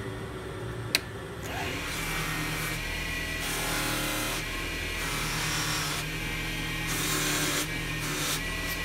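A homemade metal pen clip being buffed to remove scratches, a continuous close rubbing, grinding whir running steadily with slight swells in intensity, preceded by a brief sharp click.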